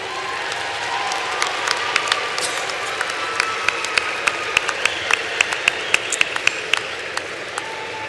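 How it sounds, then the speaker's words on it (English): Audience applause fills a university commencement ceremony as graduates honor their supporters, a dense steady wash of many hands clapping throughout with individual sharp claps standing out. "give them a special round of applause"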